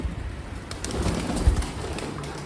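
Hungry pet pigeons coo in low, soft bursts close by at feeding time, with light rustling and background ambience; no speech.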